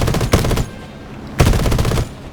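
Two short loud bursts of machine gun fire from an aircraft in the video game War Thunder, separated by a brief pause.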